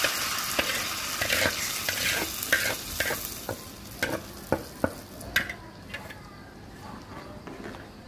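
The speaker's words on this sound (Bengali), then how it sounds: "ওই চুলায় রসুন আর পেঁয়াজ ভাজতেছি বাগার দেওয়ার জন্য" Garlic and onion for a lentil tempering fry hot in oil, a loud close sizzle broken by sharp clinks and scrapes of a spoon against the pan, fading to a quieter hiss.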